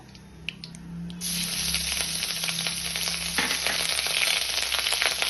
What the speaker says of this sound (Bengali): একটা তেজপাতা আর শুকনো লঙ্কা ফোড়ন দেব।